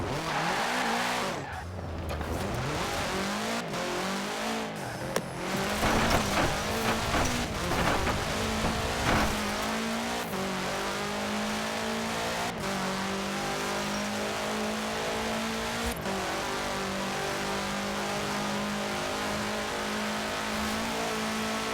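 A 1966 Volkswagen Beetle fitted with a 2.5-liter turbocharged flat-four roars through a video game race, its engine revving hard and rising through gears with tire squeal and skidding, loud and continuous throughout.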